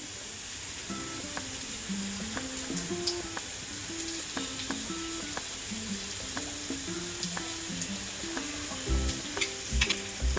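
Vegetables and diced potato sizzle steadily in a hot pan while a spoon scrapes and stirs them, with soft clinks and a few louder knocks toward the end; no one speaks.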